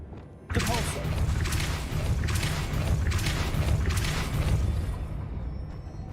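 A Depulso spell is cast in Hogwarts Legacy, opening with a sudden forceful burst followed by rumbling, pulsing blasts and thuds that continue loud and close before easing off.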